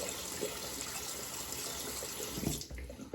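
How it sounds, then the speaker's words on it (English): Cold water runs steadily from a tap, with a few light knocks and splashes near the end as a vintage Gillette safety razor is rinsed under the stream. "rinse that razor in nice cold water"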